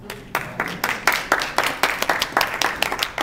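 Audience applause following a political speech about budget funding, a run of sharp, fairly steady claps at moderate level lasting a few seconds with no talk over it.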